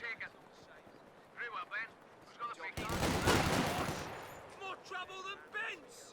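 A burst of machine gun fire erupts mid-battle in Company of Heroes 2, one loud sustained volley of about a second and a half between stretches of a commentator talking.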